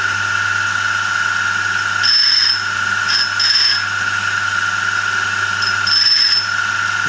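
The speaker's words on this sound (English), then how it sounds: "It's just starting to grind on the back of the land now" A grinder whines steadily while sharpening the flutes of a countersink used on stainless steel, with a few brief, brighter squealing bursts as the wheel bites into the back of the land.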